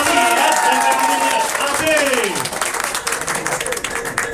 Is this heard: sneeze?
no